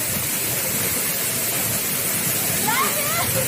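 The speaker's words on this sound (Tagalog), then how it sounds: "Ang lakas ng falls." Powerful waterfall at Puray Falls after a typhoon, a loud continuous roaring rush of water filling the whole clip, with a voice briefly calling out near the end.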